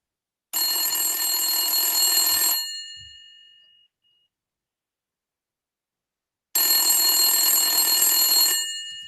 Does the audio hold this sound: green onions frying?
no